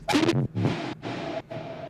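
Bass samples cut from a longer Mudpie pack loop, a gritty burst followed by three separate buzzing, sustained tones with short gaps, the last two carrying a steady pitched hum; no voices.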